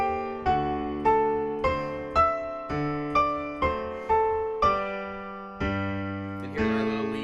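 Piano playing a passage from Scott Joplin's ragtime piece The Entertainer, a steady run of clear, close struck notes and chords with a lively bouncing rhythm, alone without talk.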